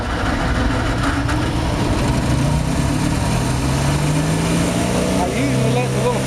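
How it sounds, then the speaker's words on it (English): A small pony starting engine on a John Deere model 80 two-cylinder diesel tractor runs steadily, with a continuous loud mechanical drone and slowly shifting pitch that holds throughout. "I usually let the little pony motor run for a few seconds."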